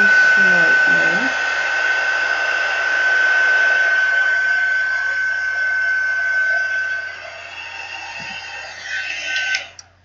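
A hair dryer, used as a heat tool, blows steadily and loudly on a handmade card for several seconds, then dips and swells before cutting off near the end.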